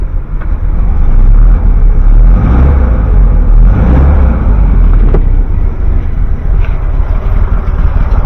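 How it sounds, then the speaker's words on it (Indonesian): A classic VW Beetle engine runs steadily and smoothly at close range, a loud, continuous low rumble with little variation. "Ini mesinnya halus, Pen."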